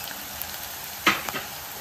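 Onions and green chillies frying in oil with curry leaves for a curry, a steady low sizzle with a brief louder stir or scrape about midway.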